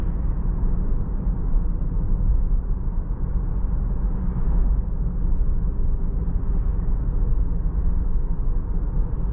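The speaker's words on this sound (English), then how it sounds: "Just a really hushed amount of road noise." Steady, muffled low road rumble inside a 2022 Jeep Grand Cherokee SUV while driving, a constant hushed drone without speech.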